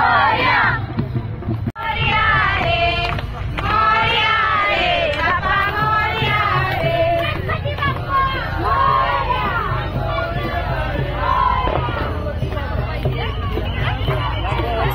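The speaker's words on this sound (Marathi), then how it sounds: "तर अशी भरपूर गर्दी होती विसर्जनला" Dense crowd hubbub at a Ganesh idol immersion procession, a continuous loud babble of many voices with scattered shouts and calls, filling the whole stretch without pause.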